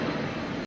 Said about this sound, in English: Big airplane.